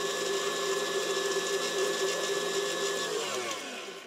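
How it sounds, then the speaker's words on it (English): Electric mixer beating pound cake batter from scratch, a steady close motor whir with a rattling beater texture that runs continuously and tapers slightly at the end. "that looks like that's mixing really good this time"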